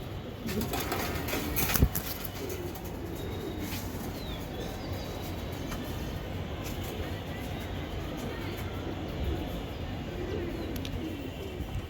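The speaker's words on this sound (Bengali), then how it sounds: "রাত হয়ে গেছে তো এই কারণে কবুতর একটু গাবড়াগাবড়ি করতেছে" Racing pigeons stir restlessly at night, with soft cooing and wing rustling running steadily through a dense, constant background hiss for the whole stretch.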